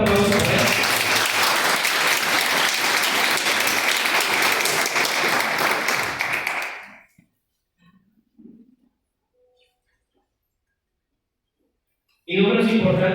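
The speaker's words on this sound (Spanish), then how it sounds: "Un fuerte aplauso para él." An audience at a conference in Perote gives loud, dense applause that runs for about seven seconds, fades into near silence with a few faint murmurs, then bursts back in at the end.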